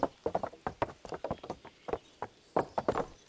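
Horse hooves clip-clop steadily at a walking pace on hard ground in the medieval game Kingdom Come: Deliverance, the close, crisp hoofbeats coming in irregular pairs and clusters with no talk over them.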